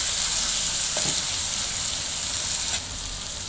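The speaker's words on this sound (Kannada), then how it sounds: "ಶುಂಠಿ ಬೆಳ್ಳುಳ್ಳಿ ಪೇಸ್ಟ್ ಹಾಕೋಣ ಇದು ಹಸಿ ವಾಸನೆ ಹೋಗೋವರೆಗೂ ಉಟ್ಕೊಬೇಕು" Ginger garlic paste sizzles steadily in hot oil in a pan, cooked for chicken liver fry, with a few stirring scrapes over a continuous close frying hiss.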